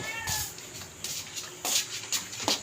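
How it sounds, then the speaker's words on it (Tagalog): Several household cats meow close by in short, overlapping calls at home, a few plaintive cries in quick succession. "Tapos meron akong daming pusa."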